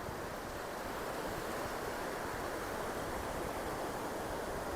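Ocean waves crossing one another in a diagonal swell, a continuous hissing wash of surf with a soft broadband roar that holds steady throughout, fairly distant and faint, with no voices.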